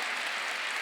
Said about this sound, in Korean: 박수 치려면 세게들 치셔.